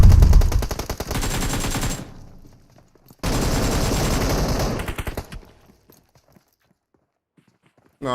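Rapid gunfire bursts in PUBG Mobile during a competitive league match, two dense loud volleys of automatic fire separated by a brief pause, then fading to near silence.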